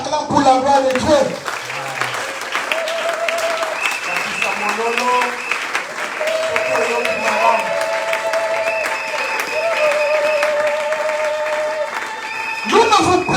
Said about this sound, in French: qu'il acclame pour la gloire de Dieu.